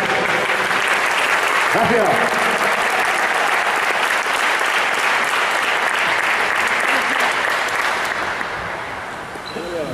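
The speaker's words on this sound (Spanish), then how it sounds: "¡Un aplauso!" Audience applause, loud and sustained, fills a Spanish basketball coaching talk on space occupation, with voices and a spoken thanks over it and the clapping tapering slightly near the end.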